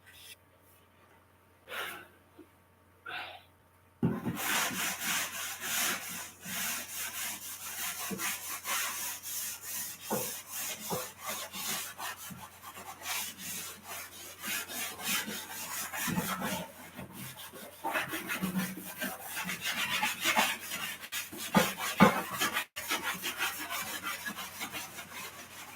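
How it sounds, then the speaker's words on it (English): A board being rubbed to erase it in a maths lesson gives repeated scratchy, rasping wipes in an irregular rhythm, starting after a few faint sounds and continuing fairly close. "I have to rub the board to create some more space"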